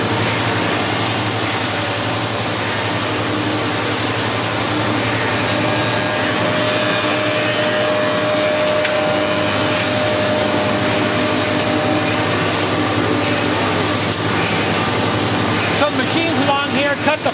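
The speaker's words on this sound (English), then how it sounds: "Machines along here cut the fret slots." Factory machines cutting fret slots in Fender guitar necks at the Corona plant give off a loud, continuous whirring machine drone, with a person talking over the steady noise.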